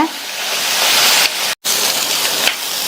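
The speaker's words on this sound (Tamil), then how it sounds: "இந்த கத்திரிக்காயை ஹை ஃப்ளேம்லேயே வச்சு ஒரு 6 நிமிஷம் போல் வதக்கிக்கலாம்." Brinjal sautéing in a pan on high flame, a loud steady sizzle close by, briefly cut off for a moment midway before it resumes.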